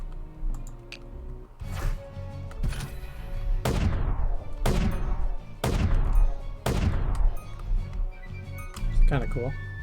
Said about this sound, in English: Can create a row of explosions.